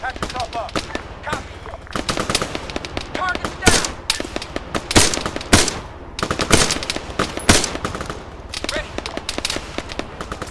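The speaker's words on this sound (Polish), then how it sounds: "Nawet nie wiem, gdzie ja strzelam." Gunfire in the Arma III military shooter game, dense bursts of rifle and automatic weapon shots cracking loudly and close, with scattered distant reports in between and a person talking over the shooting.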